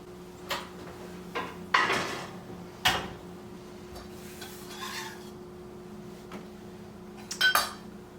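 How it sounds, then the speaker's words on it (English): Metal pans clink and clatter as croutons go into the oven for a vegan Caesar salad, with a few sharp knocks and rattles over a faint kitchen hum. "let's get our croutons in the oven"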